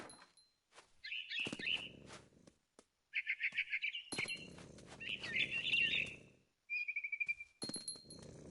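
A frightened barn swallow in What Remains of Edith Finch lets out several bursts of sharp, rapid chirps and trills, mixed with rustling, flapping scuffles between quiet gaps.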